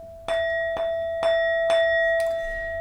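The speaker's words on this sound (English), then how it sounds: "Chimes represent the air element." Chimes are struck five times at an even, unhurried pace, each strike bright and close, with a steady ringing tone that carries between the hits and no voices.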